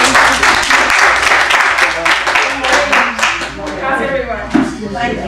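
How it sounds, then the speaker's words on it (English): Audience at a conference session giving a round of applause, close, distinct claps in an uneven rhythm that thin out toward the end while voices speak over them. "Let's give it a round of applause."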